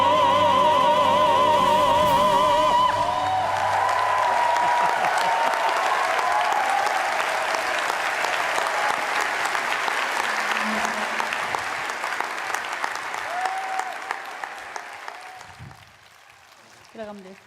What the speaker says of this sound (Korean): 여러분 정경 교수와 박미자 교수에게 다시 한번 뜨거운 박수를 부탁드립니다.